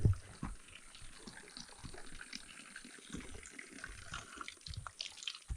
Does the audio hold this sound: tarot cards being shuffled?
no